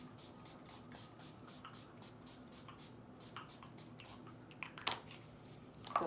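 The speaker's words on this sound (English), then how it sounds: "let's give it a little spray." Urban Decay All Nighter setting spray goes off in a string of quick, quiet spritzes, each a short, faint hiss, with a couple of slightly louder pumps toward the end.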